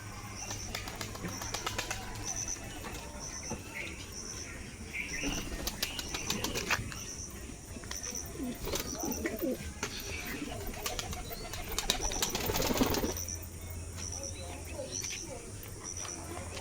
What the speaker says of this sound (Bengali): এই একটা নতুন পায়রা।